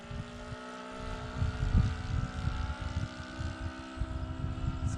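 Buzzing engine of a 28-year-old scale RC Piper J-3 Cub model airplane diving over a pasture, a steady droning whine with a pitch that swells slightly mid-dive, heard from a distance without talk.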